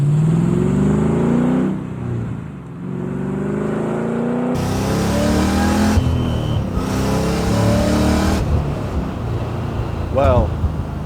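A 1967 Camaro SS restomod's engine rumbles and revs repeatedly, rising and falling in pitch up close, with abrupt cuts between takes and a brief high whine near the end.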